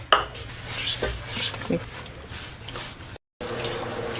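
Chocolate moron mixture of glutinous rice flour and liquid being stirred in a bowl, soft scraping and light clinks of utensil against the bowl, with a person talking over it.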